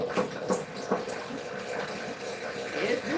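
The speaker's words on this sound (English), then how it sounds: "So the water is filtering to the bottom." Water trickling and splashing down through a hydroponic strawberry tower, a soft, steady wet patter with small irregular drips, close and fairly quiet, running continuously on its own.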